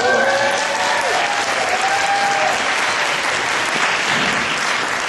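Sustained applause from an audience at a school-related charity event, a dense, steady wash of many hands clapping throughout with a few faint whistles or cheers near the start.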